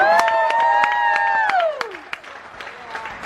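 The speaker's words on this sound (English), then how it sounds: "Give it a round of applause." Game show audience aboard the Carnival Panorama cruise ship claps scattered applause while a sustained musical tone holds, then slides downward and fades.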